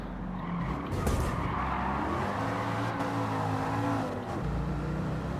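A race car in Gran Turismo 7 drones with a steady, buzzy engine note likened to a washing machine, mixed with tire squeal and skidding as it corners, continuous and fairly loud.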